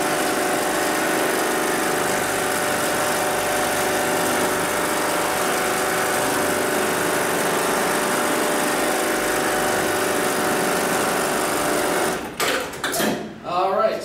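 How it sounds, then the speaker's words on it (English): A Brother BAS 326G automatic industrial sewing machine runs a steady, loud mechanical sewing cycle for about twelve seconds, then stops abruptly with a few short clunks as the automatic thread trimmer acts. "I'm going to go ahead and tap the pedal on the left-hand side. That's going to initiate the sewing cycle."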